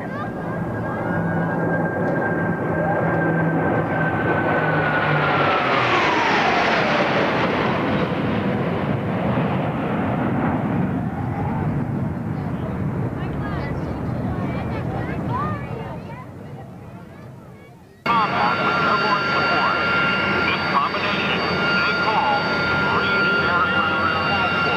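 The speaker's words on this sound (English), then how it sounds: "From the right, the Blue Angels" Blue Angels jets at an airshow in 1988, a loud roaring flyby sweeping past from the right with a falling pitch, continuous engine noise filling the whole span and announcer talk running over it.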